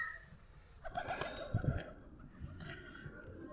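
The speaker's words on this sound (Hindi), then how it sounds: "चलो हमारा कबूतर दिखाता हूँ आपको।" A pet pigeon gives a brief low coo or two amid handling noise and faint rustle, fairly close but quiet, with no voice over it.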